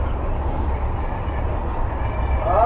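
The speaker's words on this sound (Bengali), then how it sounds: "আমরা এখন ট্রেনে" A slow passenger train running, heard from inside the carriage as a steady low rumble with a faint mechanical drone and no clear clicks.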